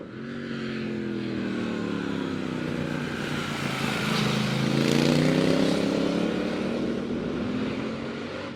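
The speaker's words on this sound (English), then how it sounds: "today I'm out here riding the 2019 Triumph Bonneville Speed Twin" Steady, loud engine drone of a 2019 Triumph Bonneville Speed Twin being ridden, pitch rising and falling as it accelerates and shifts, with wind rush and no talking.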